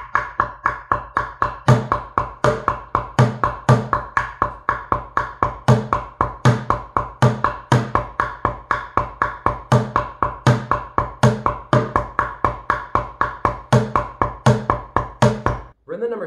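Bucket drumming: a fast, steady rhythm of sticks striking buckets, with sharp repeated hits and accented strokes running continuously, close and loud with no talking.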